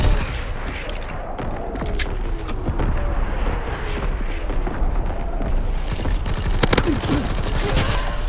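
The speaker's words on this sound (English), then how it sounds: "Firing division artillery." A division artillery barrage in the Call of Duty WWII video game: a dense, continuous rumble of booming shell impacts and crackling bursts, loud and close, with heavier blasts toward the end.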